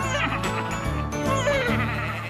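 Several cartoon sheep bleat in quick overlapping calls over a busy background of music and other sounds.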